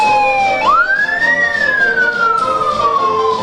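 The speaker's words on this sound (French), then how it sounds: "Sirène de motards qui annonce donc l'arrivée de monsieur le gouverneur de la région de l'Ouest" A loud police motorcycle escort siren wails continuously, sweeping up then slowly gliding down in pitch as it announces the arrival of a regional governor at an official public ceremony in Cameroon.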